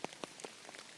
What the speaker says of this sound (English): if the rain stops, and I don't think it will